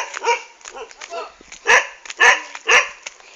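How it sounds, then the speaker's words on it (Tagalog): A dog barks in a short burst of several sharp, close barks, with softer yips in between. "Tingnan mo, tumatahol siya pero gumagalaw yung buntot niya."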